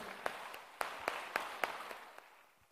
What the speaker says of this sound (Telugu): గట్టి చప్పట్లు కొడదాం మన మూర్తులకు